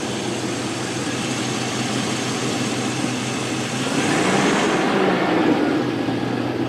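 A work truck engine with a leaking exhaust manifold runs steadily up close, a dense rumbling drone with a ticking rasp that grows slightly louder and rougher midway as it gets some gas; no talking.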